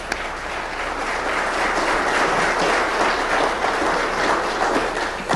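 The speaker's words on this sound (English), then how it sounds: "A round of applause and much well-deserved awards." Audience applause at the 1996 George B. Hartzog environmental lecture and awards event, a dense, sustained roar of many people clapping at even loudness from start to finish.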